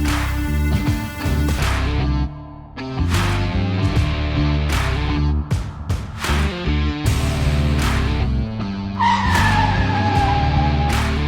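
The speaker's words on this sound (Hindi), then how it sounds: "ब्रेक टेस्ट जो है वो 70 किलोमीटर्स पर आवर की स्पीड से स्टार्ट लाइन फिनिश पे गाड़ी को ब्रेक करते हैं" A Toyota Fortuner V 4x4 brakes hard from 70 km/h in a brake test, and its tyres give a brief skidding squeal near the end. Loud rhythmic music plays throughout and largely covers the car.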